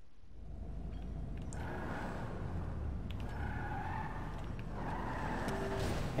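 A street car in GTA V drives with a steady, continuous engine drone while its tires skid and squeal in several bursts, all heard without any talking.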